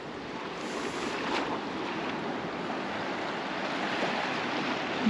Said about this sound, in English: That's why you can hear the ocean.